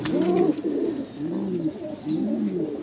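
Damascene pigeons cooing close by in soft, rolling, repeated phrases, with no other voices.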